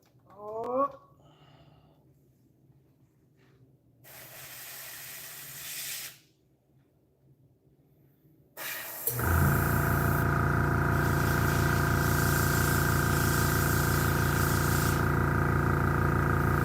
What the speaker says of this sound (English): I'm going to go over this many times because we're spraying really, really thin.